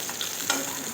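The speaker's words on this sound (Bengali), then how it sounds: "আবারও আমি ঢাকা চাপা দিয়ে ভেজে নেব" Pointed gourd frying in a covered pan gives a steady, close hiss of sizzling oil with a brief crackling burst in the middle, lasting only a moment with no voices.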